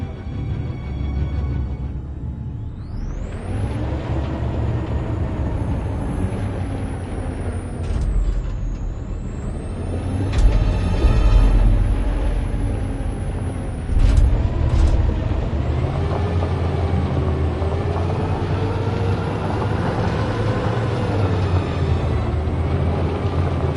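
A loud, steady video game truck engine rumble with a low, grinding drone and a rising mechanical whine, shifting in pitch as the vehicle revs, with no talking.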